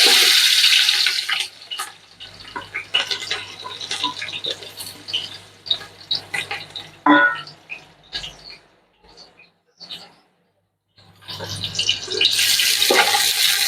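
Chopped green chillies and onions hit hot oil with a loud, hissing sizzle that eases off while a voice talks, then surges back strongly near the end.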